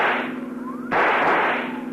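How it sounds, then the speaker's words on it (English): A single sharp rifle shot cracks out midway in a 1950 radio drama, loud and close, over a steady engine-like hum that continues before and after. "See if you can use that rifle, Dollar."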